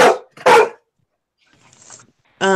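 A dog named Jethro barks in a home craft room, two loud close barks followed by a fainter rustle and a final short yelp-like bark.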